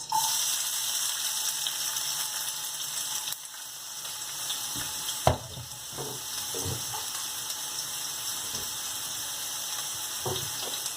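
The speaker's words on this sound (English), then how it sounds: "For this recipe I'm going to slightly saute the vegetables" Onions and vegetables sautéing in a pan for a vegetarian lasagna, a continuous moderate sizzle with occasional stirring knocks and clatters, no talking.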